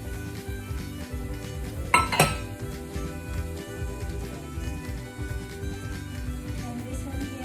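Chopped carrots, snow peas and bok choy are tipped into a pan for noodles, giving a short clatter and clink around the two-second mark over a steady low background.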